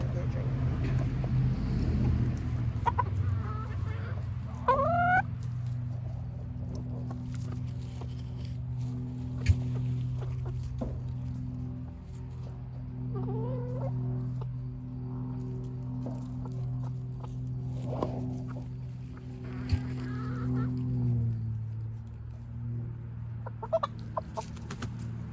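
Silkie chickens and a turkey cluck and make short rising calls off and on over a constant low engine-like hum, with a person talking at times.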